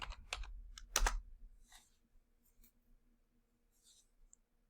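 A few sharp key taps on a computer keyboard while a dimension value is entered in CAD software, close and fairly quiet, with a brief louder cluster of strokes early on and then sparse faint clicks.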